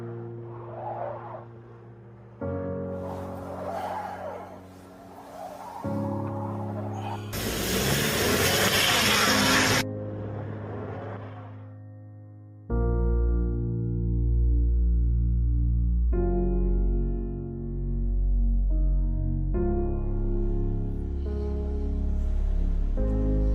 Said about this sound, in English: car's stuck in the snow, man.